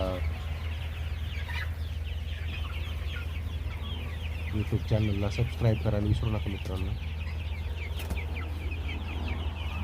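Kaveri gavran chickens on a poultry farm cluck and squawk steadily nearby, with a few sharper calls standing out, under a person talking.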